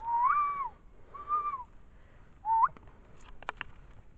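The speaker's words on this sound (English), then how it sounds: "Who can whistle? Whistle, please." Several people whistling outdoors at night in a forest near a ghost town: three rising, wavering whistles spaced about a second apart, fairly loud and close, followed by faint scattered clicks and knocks.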